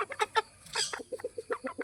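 A chicken, a rooster being shown off for its fine looks and hard bones, clucks in a short run of quick, close, fairly quiet calls, with no talk over it.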